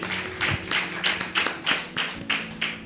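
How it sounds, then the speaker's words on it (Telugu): A church congregation claps together in a steady rhythm of about eight evenly spaced claps, moderately loud against a faint background hum. "క్లాప్స్ కొట్టి దేవుని మహిమపరుద్దాం."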